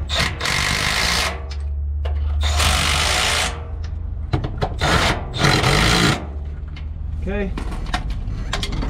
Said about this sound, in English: let's tighten it using the electric ratchet